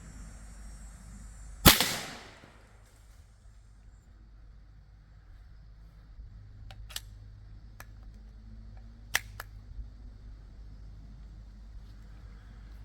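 A single sharp, loud crack from a Seneca Double Shot PCP big bore airgun firing a round ball outdoors, followed by a short decaying echo, then quiet ambience with a few faint clicks.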